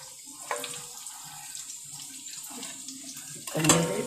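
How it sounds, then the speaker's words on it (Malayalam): Water splashes from a pouring stream into a pot of chicken curry meat, a continuous close trickle that swells briefly louder near the end. "നമ്മള് വെള്ളം ഒഴിക്കണം."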